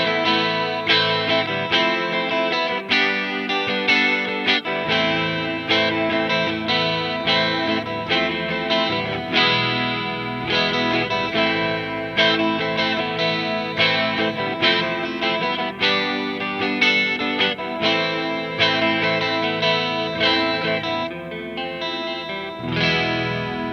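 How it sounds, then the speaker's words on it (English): Electric guitar riffs played on the neck pickup through a Mesa Boogie Badlander with a CabClone IR, TC Electronic Corona chorus and Earthquaker Ghost Echo reverb, a continuous lush shimmering chordal passage with no talking. "What I did was put some Corona chorus from TC Electronic on, and the Ghost Echo reverb from Earthquaker Devices."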